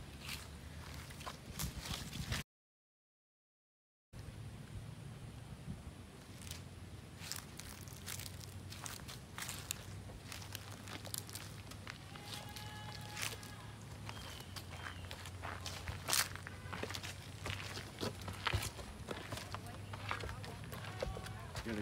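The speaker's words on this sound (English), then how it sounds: "I'm about to walk through." Footsteps walk across the outdoor movie-set town of Spectre on Jackson Lake Island, Alabama. The faint, steady crunching steps carry on throughout as people talk over them.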